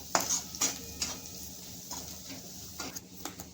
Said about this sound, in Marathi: आणि आता चांगला कांदा परतून घ्यावा मसाला टकवलं बघा आता आणि आता मसाला चांगलं व्यवस्थित परतून घ्या